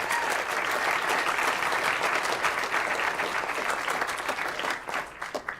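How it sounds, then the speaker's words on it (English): Audience applause at a youth climate summit, a large crowd clapping loudly and continuously before thinning out toward the end. "can you guys give the organizers here in the Wild Center a huge round of applause"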